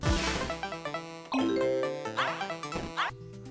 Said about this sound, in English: the sound of you hitting a checkpoint